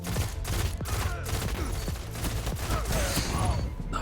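Rapid gunfire from a weapon in the video game Destiny 1, loud and continuous bursts with busy game effects layered over it, no talking.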